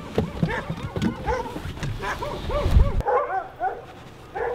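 A bunch of dogs in Barrow, Alaska barking and yipping in quick overlapping bursts, fairly close and loud, with some whimpering, then a quieter stretch near the end.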